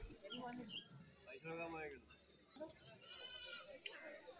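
Goats bleat at a busy goat market in Kerala, several calls rising over steady crowd chatter and people talking nearby, with a bird chirping faintly in the background.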